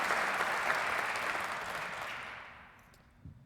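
Applause for a baseball coach at a 2012 hall of fame ceremony, a broad sustained crowd clapping that holds steady for a few seconds, then thins and fades out.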